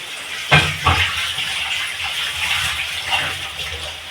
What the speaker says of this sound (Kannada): ಮಳೆ ಮಾತ್ರ ಸಿಕ್ಕಾಪಟ್ಟೆ ಜೋರಿದೆ